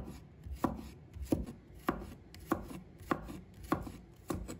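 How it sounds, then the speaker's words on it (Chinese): A knife chops garlic finely on a cutting board, about ten evenly spaced, crisp thuds in a steady rhythm, close and clear with no talking. "再切成末，尽量的把它切碎一点"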